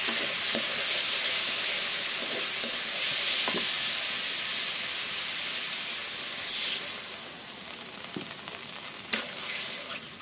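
Fish curry in a hot pan hisses and sizzles steadily as water goes in, with faint clinks of utensils scattered through the continuous frying noise.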